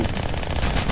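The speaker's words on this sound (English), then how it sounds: "One of those beam rifle shots" A beam rifle fires in a video game, a loud, dense rattling burst of rapid repeated shots that fills the whole moment without pause.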